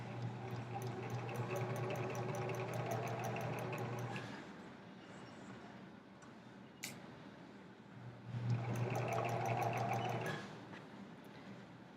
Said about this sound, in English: you're going to do that for both of your legs, and then when you get to the end, you're going to back stitch again